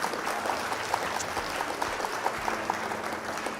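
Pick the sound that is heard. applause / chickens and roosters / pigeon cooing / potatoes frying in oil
applause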